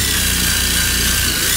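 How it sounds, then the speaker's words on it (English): Drill fitted with a coarse wire wheel rolling over a deer hide to strip membrane, a steady loud whirring grind with scraping texture running throughout, close up and without talk. "you can always use a drill with a coarse wire wheel and just roll right over it"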